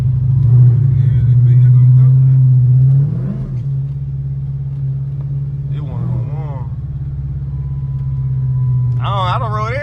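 Supercharged Camaro engine rumbling loud and close, with a steady low drone that dips around three seconds and builds again, while people talk over it.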